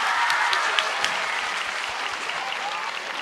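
Audience applause and cheering from students at a high school surprise event, a steady wash of clapping with brief sharper claps, fairly distant and unbroken.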